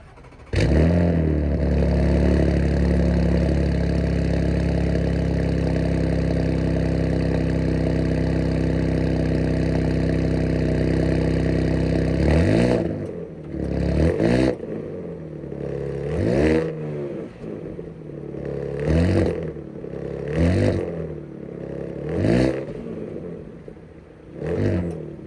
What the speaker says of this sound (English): let's hear how this car sounds